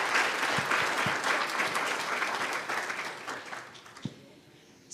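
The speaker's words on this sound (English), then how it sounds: "give them a round of applause" Audience at an academic symposium on trust in media and technology applauds, dense clapping that thins and fades toward the end, leaving a few scattered claps.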